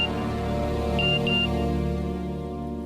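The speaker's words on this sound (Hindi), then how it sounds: "मैसेज है," A phone gives two quick, high message-notification beeps about a second in, over a sustained droning musical score in a Hindi crime-drama scene.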